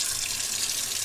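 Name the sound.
RV sink faucet sprayer running water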